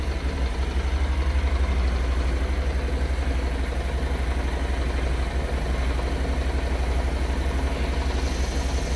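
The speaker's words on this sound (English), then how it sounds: "Little background noise, courtesy of the two hot little cylinders." A two-cylinder engine idles steadily nearby, a loud continuous low throb with a fast even pulse and no pauses.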